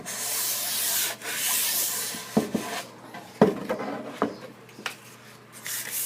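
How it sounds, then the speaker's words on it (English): A random orbital palm sander works the nose of a wooden stair tread, giving a steady close rubbing whir broken by a brief pause and then short uneven scuffing passes. "that's the palm sander, random orbital sander. I'm just going to do the nose of the tread."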